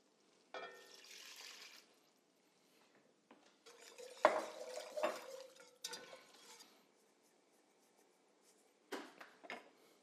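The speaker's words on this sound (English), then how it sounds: "And then I'm cooking this, just stirring it till it comes to a boil." Red wine meatball sauce with Malbec, salt and pepper being stirred in a pot on the stove, heard as scattered scraping and clinking of a utensil against the pot in short bursts separated by quiet gaps.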